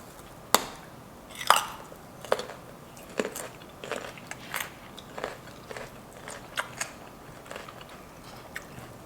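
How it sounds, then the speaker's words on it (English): A crunchy raw carrot is bitten and chewed up close during a mukbang meal, giving a string of sharp, loud crunches at irregular intervals over a quiet background, with no talking. "Eat another carrot."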